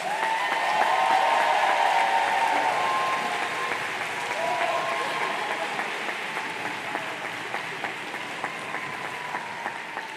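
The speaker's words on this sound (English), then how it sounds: "audience, please, let's give them a round of applause" A large audience claps steadily at a graduation ceremony for the graduating class, broad sustained applause that gradually thins out toward the end, with a few scattered voices mixed in.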